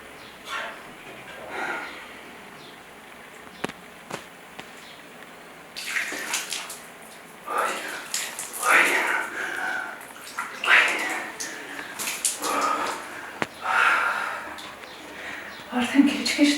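Spring water flows out from under the ground on a mountainside, splashing and gushing in uneven bursts close by, with people talking over it.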